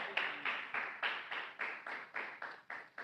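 A church congregation claps together in a slow, steady unison rhythm, about eleven sharp claps spaced evenly at roughly three per second, ringing through the room.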